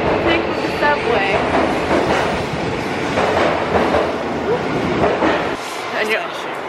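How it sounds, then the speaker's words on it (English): Subway train ride in Japan: steady loud rumble of a moving carriage with rhythmic wheel clatter and brief squeals, continuous throughout and easing off near the end. "We are currently taking the subway."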